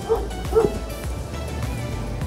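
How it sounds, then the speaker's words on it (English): A happy dog yips and bow-wows twice in quick succession close by, then settles into faint whimpers over background noise. "Just a happy dog, just a happy dog."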